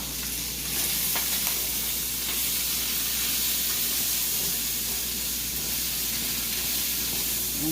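Bacon and chopped onion sauteing in a hot pan, a steady, close, even sizzle and hiss that runs unbroken without voices.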